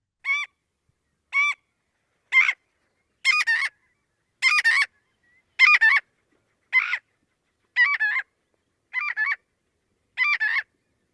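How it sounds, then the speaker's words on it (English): A marbled godwit gives a loud, repeated alarm call over a prairie wetland, about ten sharp, evenly spaced bursts carrying strong harmonics, each one close and clear against near silence. "So here is the marbled godwit's very loud call."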